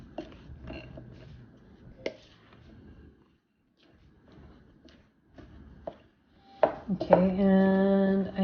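A spoon stirs almond cookie ingredients in a bowl with scattered scraping clinks and soft knocks, followed by a sharper clatter and a ringing metallic tone near the end; the sound is close and fairly quiet.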